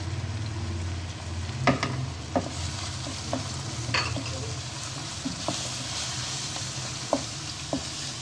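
Onion, garlic ginger paste and spices sizzling in a pan, a continuous frying hiss broken by sharp scrapes of a stirring utensil at irregular intervals, close up and without talk.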